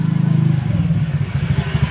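A Honda TMX Supremo motorcycle engine idles up close with a steady, throbbing low putter and slight clatter, holding a fairly even rhythm with small fluctuations throughout.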